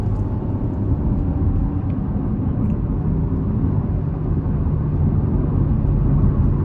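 A 2021 Chevrolet Trailblazer LT's 1.2L turbo engine with CVT builds under throttle as a loud, steady, broadband cabin rumble and drone, continuous and close throughout.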